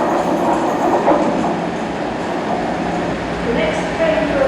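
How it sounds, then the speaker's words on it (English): Colas Rail Freight Class 50 diesel locomotive rolling through a busy station, a steady loud rumble with rail noise filling the whole stretch, faint voices and announcements mixed underneath. "That Colas Rail Freight Class 50 is just about to come through now"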